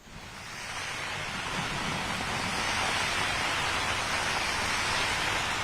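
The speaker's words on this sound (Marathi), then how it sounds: "मुंबईत मुसळधार पावसाला सुरुवात जी आहे ही झालेली आहे" Heavy monsoon rain falling in Mumbai, a steady broadband hiss that swells slightly in the first second and then holds loud and even throughout, with no voices.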